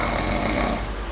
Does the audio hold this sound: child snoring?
yes